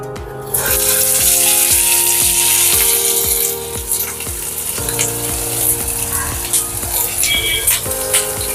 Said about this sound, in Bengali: এবারে আমি পেঁয়াজ বাটাটা দিয়ে দেব